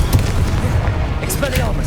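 Casting the Incendio fire spell in Hogwarts Legacy gives a loud, close burst of rumbling, roaring fire with booming low thuds, heavy and continuous across the moment amid busy combat noise.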